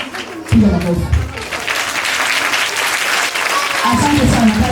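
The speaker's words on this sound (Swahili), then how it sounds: "piga makofi." A church audience claps for children reciting poems at an FPCT congregation, dense continuous applause that swells after a moment and holds steady, with voices talking over it.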